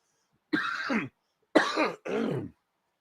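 A man coughs three times in quick succession, short rough bursts close to the microphone separated by brief pauses in an otherwise quiet room.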